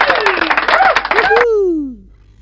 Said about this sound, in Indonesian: Kita beri tepuk tangan yuk sama-sama dalam untuk menyambut urapan dan hadiratnya yang kudus